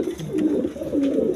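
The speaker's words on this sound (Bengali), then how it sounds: "এই যে দেখেন ওইটারও পরা ডাকাডাকি করতেছে প্রচুর দেখেন" Pigeons at a farm give continuous low, rolling coos, close and fairly loud, with several birds overlapping.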